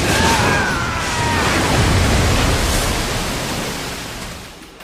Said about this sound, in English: Earth style, Great Mud River!